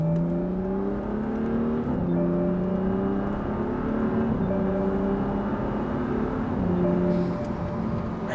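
A BMW F30 335i with the N55 engine, heard from inside the closed cabin while driving: a steady low drone with rising and falling engine tones as it accelerates and shifts gears, continuous and muffled, with no talking.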